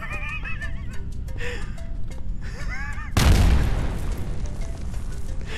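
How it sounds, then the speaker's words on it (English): A sudden loud explosion bursts out in a video game after a stretch of horse whinnies and game sounds, then rumbles on with a lingering noisy tail. "Nope, explosion."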